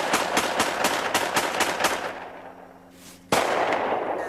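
Rapid run of sharp gunshots from a homemade gun during firing practice in a forest, about a dozen cracks in a fast rhythm, then a pause and one more loud shot.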